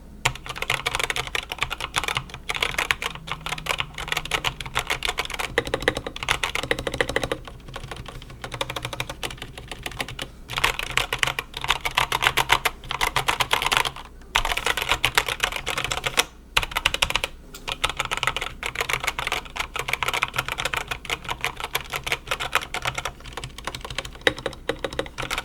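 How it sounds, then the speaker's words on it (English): Continuous, brisk typing on a Redragon Surara K582 SE wired mechanical keyboard, a dense, steady stream of close, clear key clacks lasting throughout with only brief pauses, no voices. "So now let's go ahead and do some typing test on this keyboard."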